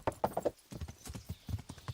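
Horse hooves clip-clop in a steady, quick rhythm in Kingdom Come: Deliverance, close and clear, with an irregular run of hoof strikes and no talking over them.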